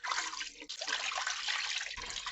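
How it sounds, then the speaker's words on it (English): Three cups of water pour steadily into a pan holding lemongrass and ginger, a close, continuous splashing rush with a brief break midway, no voices. "we're going to add 3 cups of water"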